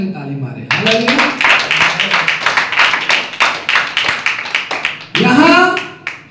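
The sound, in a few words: congregation clapping loudly for God's glory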